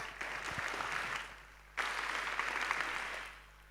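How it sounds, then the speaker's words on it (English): Audience applause for sponsors at a hackathon event, a steady wash of many hands clapping that briefly dips and then swells again, moderately distant in a large hall. "Another round of applause for our sponsors, guys"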